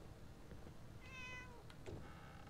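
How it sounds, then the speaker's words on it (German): A cat meows once in Fallout 4, a faint, drawn-out cry against a low background hum, followed by a couple of short, soft chirps. "Katze nervt"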